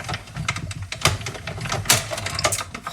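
A paper-crafting die-cutting machine presses paper through a die, giving a steady run of clicking, clattering mechanical ticks with sharp louder snaps scattered through, close up and without speech.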